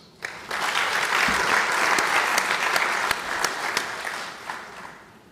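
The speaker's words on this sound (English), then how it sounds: "let's clap for ourselves" An audience at an African Liberation Day gathering breaks into applause, rising quickly to a full, close crowd of clapping with a few sharp individual claps standing out, then tapering off near the end.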